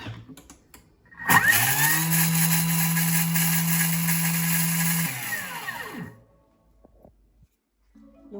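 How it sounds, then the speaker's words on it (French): A kitchen machine grinds spices at speed 10 for the cookie dough, a loud steady whirring blade that starts abruptly, holds for several seconds with a sustained hum, then winds down, leaving quiet with small clicks. "je vais venir moudre les épices. Donc 10 secondes à vitesse 10."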